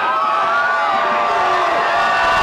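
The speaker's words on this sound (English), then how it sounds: "What a crowd." Large crowd cheering and whooping at a governor's recall victory speech, a dense sustained roar of voices and shouts filling the space.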